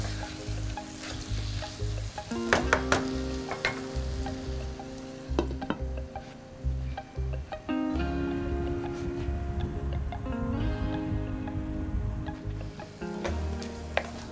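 Small fish curry cooked with satkara citrus and poppy seed sizzles steadily in a pan, with repeated scraping stirs and clinks over the frying, close and fairly loud, while background music plays throughout.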